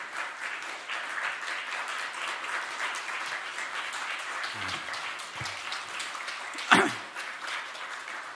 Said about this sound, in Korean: 박수 주시기 바라겠습니다.